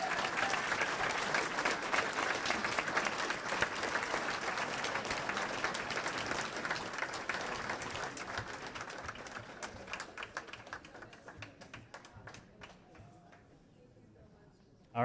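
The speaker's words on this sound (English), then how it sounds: "One more big round of applause for them" A large audience applauds steadily at a family and friends day opening ceremony for a college class, the dense clapping holding strong before thinning out and fading toward the end.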